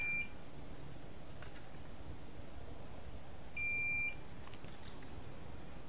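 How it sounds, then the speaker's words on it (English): Multimeter in diode mode beeping on a shorted 12V rail of a broken graphics card: two short, clear electronic beeps, one brief at the start and a longer one near the four-second mark, over a quiet background hiss. "So if I put this back into diode mode, you can hear a beep."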